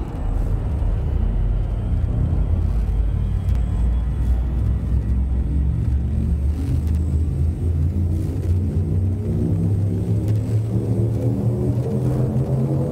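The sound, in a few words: spaceship frame shift drive charging in Elite Dangerous video game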